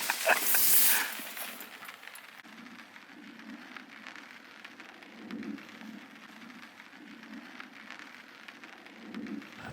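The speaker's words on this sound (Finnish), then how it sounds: "Sataa." Steady, light rain falls during an overnight stop in the Swiss Alps near Mont Vélan, a soft continuous patter with a brief louder splash at the start.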